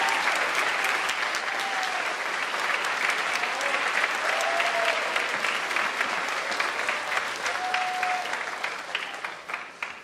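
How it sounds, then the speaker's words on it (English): Sustained, dense applause fills a school academic award ceremony hall as students receive honors, with continuous clapping from a large audience and a few faint whoops rising above it. "let's give them another round of applause"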